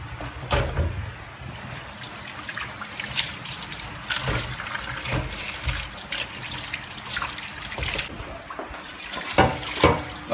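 Tap water trickling and splashing steadily into a sink or pot while salt cod is prepared in a home kitchen, fairly close and continuous, with occasional clatter and no talk.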